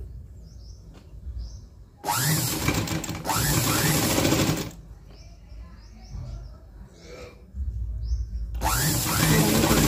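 A sewing machine stitches a cutwork blouse with lining in loud, whirring bursts that start and stop several times. Quieter stretches between the bursts carry faint chirps and handling sounds.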